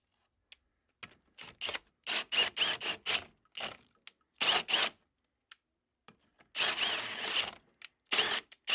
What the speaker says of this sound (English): Almost got the whole fitting drilled out there.